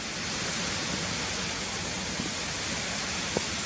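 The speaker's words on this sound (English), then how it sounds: "this is where the water channels underneath the road here and drops down there, as you can hear" Steady, loud rushing roar of water dropping down a channel beneath a road near a waterfall at Harmby, a constant broadband wash heard close with no talking.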